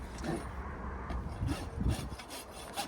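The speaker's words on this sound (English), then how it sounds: "he files off the bent over part of the nail" A farrier files off the bent-over end of a horseshoe nail on a horse's hoof before pulling the shoes. Quiet, rasping strokes repeat in an uneven rhythm, with no voices.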